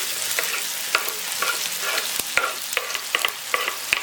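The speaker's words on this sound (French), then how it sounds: "On va commencer toujours par mettre de l'oignon dans l'huile." Onions frying in oil in a pot for meat rice, a dense steady sizzle punctuated by sharp utensil clicks and scrapes every fraction of a second, close and alone.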